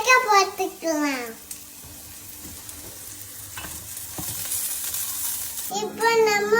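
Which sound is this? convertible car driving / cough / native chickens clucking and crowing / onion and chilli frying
onion and chilli frying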